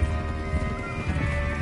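Horse hooves clip-clop at a steady walking rhythm in the Red Dead Redemption 2 video game, with a soft snort or whinny mixed in over a low, constant background hum.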